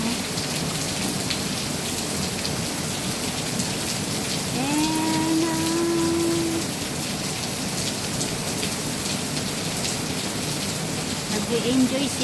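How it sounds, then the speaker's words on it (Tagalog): Heavy rain falls in a constant loud roar of drops hitting surfaces nearby, while a brief tonal call or voice rises over the downpour midway and again near the end. "Ang lakas ng ulan."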